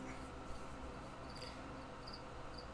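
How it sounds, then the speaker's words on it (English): Cricket chirps from the Hades video game, heard as faint repeated high chirps over a steady game soundscape, alone without talk. "Yes, chirp, chirp, cricket."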